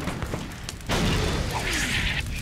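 Booming cannon fire sounds in the pirate video game Corsairs: Return of the Legend, a heavy blast with a rumbling roar and crackle that sustains for over a second amid other battle noise.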